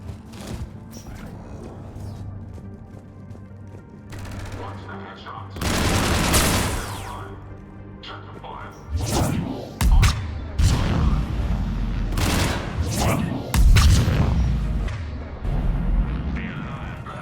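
Gunfire in the Mass Effect 3 video game during a combat sequence, bursts of rapid shots and heavier booming impacts coming in clusters over several seconds, loud, with occasional voice lines mixed in.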